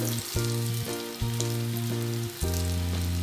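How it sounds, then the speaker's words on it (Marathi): Vadas for dahi vada deep-frying in oil, a continuous close sizzle overlaid by a low, steady tonal hum that cuts out and restarts several times, with no voices. "अशा पद्धतीने हे वडे आपल्याला तळून घ्यायचे आहे"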